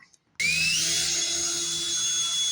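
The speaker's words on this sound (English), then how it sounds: "We're going to get a drill bit, and we're going to drill that out." After a brief quiet moment, a power drill whines up to speed and runs steadily at a high, constant pitch, drilling out a stud on a 2015 Chevy Silverado.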